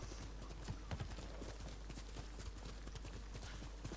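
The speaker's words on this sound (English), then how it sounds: "Take me to where I wish to go, mighty steed." A horse gallops in the video game Ghost of Tsushima with quick, rhythmic hoofbeats at moderate volume. The pace holds steady throughout over soft ambient background.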